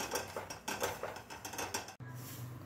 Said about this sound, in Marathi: आता गॅस बंद करणार आहे।